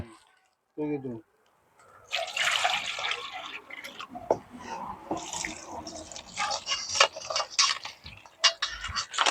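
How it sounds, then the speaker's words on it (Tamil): Water splashes and trickles irregularly near the listener as crabs are washed, with drips and clattering as they are rinsed, while a voice talks briefly at the start. "தண்ணி விட்டு கழுவுவாம் என்ன"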